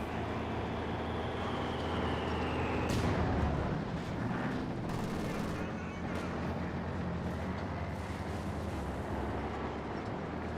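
Mortar and gunfire in Company of Heroes 2: a heavy artillery blast about three seconds in, then rumbling battle noise and scattered shots, with a commentator talking throughout.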